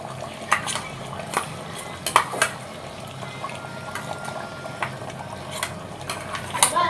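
A spoon scrapes and stirs ground masala of onion, coconut, poppy seed and dry ginger into chicken curry in a clay pot, giving soft wet clinks and scrapes at irregular intervals over a low background hiss, with no talking.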